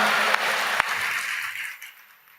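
A church congregation claps hands during a sermon, a dense burst of applause that holds briefly and then fades away to quiet within a couple of seconds.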